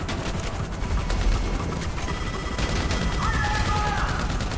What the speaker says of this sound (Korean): 아, 내가 이거 수동으로 쏘고 있는 거였구나.